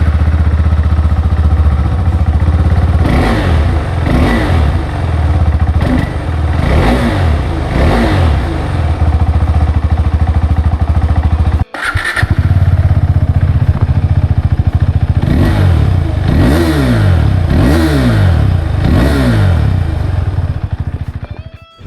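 A KTM 390 Adventure motorcycle revs repeatedly, first on the stock exhaust and then with a Leo Vince slip-on, each sharp blip rising and falling in a series of loud, close bursts separated by idle.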